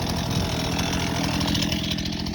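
A chainsaw runs loud and close while cutting wood rounds from a log pile, its engine holding a steady, dense roar with no pauses.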